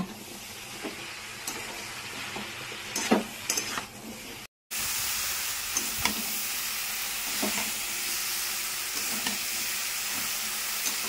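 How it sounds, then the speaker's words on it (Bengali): Steady frying sizzle from a pan of taro stolons with shrimp, broken by a brief silence, with occasional clinks and scrapes of stirring, close and unaccompanied by speech. "তো এইভাবে খানিকক্ষণ ভাজা ভাজা করব।"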